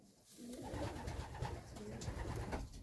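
A blue pigeon in a breeder's loft coos softly, giving several low, rolling calls in a row close by. No one speaks over the cooing.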